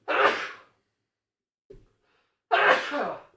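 Two sharp, breathy sneeze-like bursts, separated by a short pause with a faint catch of breath between them, close and fairly loud.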